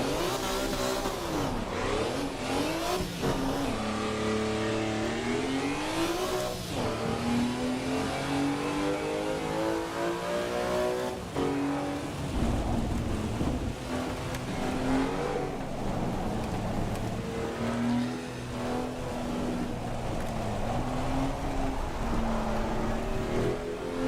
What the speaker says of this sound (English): Rev matching, Rusty, rev matching